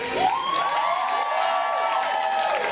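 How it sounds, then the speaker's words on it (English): An audience at a 1920s-style speakeasy burlesque show cheers and whoops for the bartender, with a rising whistle-like shout over a brief burst of crowd noise. "Can we have a round of applause for our bartender"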